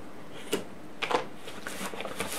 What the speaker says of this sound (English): So you'll just cut the label right off,